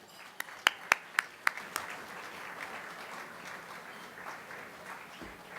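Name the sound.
applause at an awards dinner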